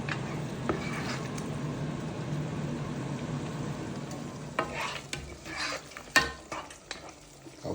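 Egg sauce fries in oil in a pan, giving a steady close sizzle. Spoon scrapes and clinks stir it several times toward the end.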